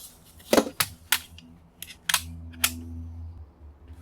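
A Kaiweets ES21 electric screwdriver removing small screws: a few sharp clicks and clacks, with a brief low motor whir between them, close and alone.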